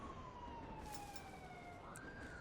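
Police car sirens wail faintly in the distance in GTA 5 with the LSPDFR mod, a thin gliding tone that slowly sinks and then jumps back up, heard without any talk over a low background hiss.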